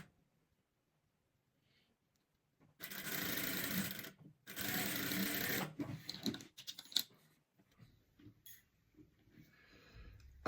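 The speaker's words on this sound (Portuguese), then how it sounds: "Agora é só passar aqui a costura" A sewing machine runs in two loud bursts as it stitches a seam on an eight-pointed star rug, with a short pause between them and quieter handling noises afterward.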